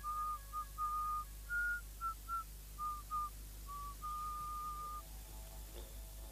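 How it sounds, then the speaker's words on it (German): A man whistles a slow, mournful death-march tune in clear, separate phrases of sustained and short notes over a low steady hum, close and fairly quiet, without talking. "Brown war jetzt der Gewohnheit verfallen, fast ununterbrochen den Todesmarsch zu pfeifen"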